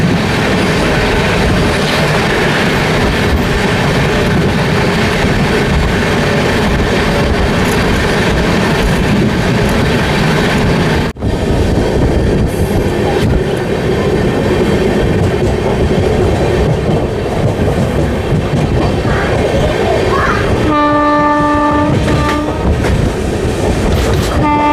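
The Raigarh–Gondia Jan Shatabdi Express runs at speed, with a loud, steady rumble and rattle of wheels on track heard from on board throughout, a brief dip midway, and a horn-like tone near the end.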